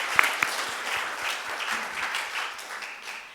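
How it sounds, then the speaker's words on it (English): A church congregation gives a hearty round of applause to welcome new visitors, steady dense clapping filling the room from start to finish with no voices over it. "it is our tradition to welcome new visitors with a hearty round of applause"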